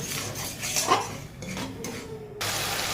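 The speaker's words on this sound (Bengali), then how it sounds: "এইভাবে ভালো করে আর একটু কষিয়ে নেব" Spice paste being stir-fried in a pan for a pointed gourd and prawn dish, with a spatula scraping and clinking against the metal over a soft, steady sizzle. Close by, no talking.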